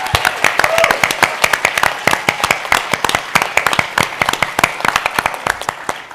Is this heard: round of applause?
yes